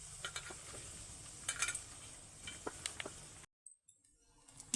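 Cumin seeds and dried red chillies fry in a pan with a soft, steady sizzle, broken by small crackles and a few scraping stirs. The sound cuts out abruptly near the end.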